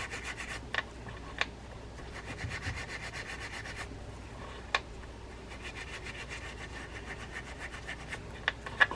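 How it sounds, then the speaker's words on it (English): Steel wool scrubs old residue off both sides of a small washer from a vintage Pflueger SeaKing saltwater fishing reel. The result is a quiet, rhythmic rasping rub in quick repeated strokes, close and faint, with a few sharp clicks. "I'm just going to use the steel wool to get rid of that older stuff on both sides of it"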